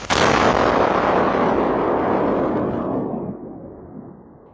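A Russian cruise missile explodes on Polish soil, caught by a home security camera: one sudden loud blast followed by a long rumbling roar that slowly decays over several seconds, with no voices.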